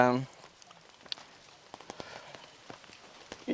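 Rain falling outdoors on a film set in Wayanad, scattered drops pattering on surfaces in light irregular ticks after a brief voice at the start.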